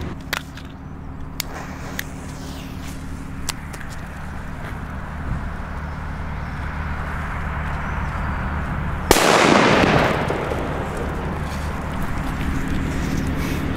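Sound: Thundercracker D P1 firecrackers exploding on New Year's Eve

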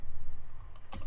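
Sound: typing on a computer keyboard

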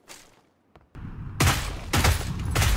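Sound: gunfire in a video game

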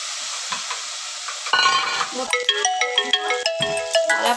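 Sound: onions and tomatoes frying and stirred in a pan

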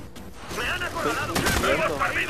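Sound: machine gun fire in video game Ghost Recon Future Soldier

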